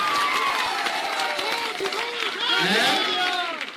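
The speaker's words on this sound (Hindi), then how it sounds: "ताली बज गया" A large crowd at a political election rally in Purnia, Bihar claps and cheers together, loud and dense throughout, with shouting voices and babble mixed into the ovation.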